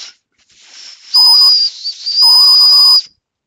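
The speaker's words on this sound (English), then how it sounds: "Maybe the whistle will work now." A survival whistle from a survival kit is blown in two loud, shrill, sustained blasts, each lasting about a second, with a softer, wavering attempt in between. No one talks.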